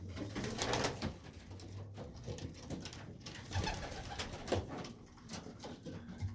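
Pigeons in a loft coo softly and repeatedly in low, throaty pulses, several birds overlapping against a faint background rustle, no one speaking.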